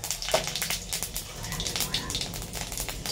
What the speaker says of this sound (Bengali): এবার ফোড়ন দিলাম।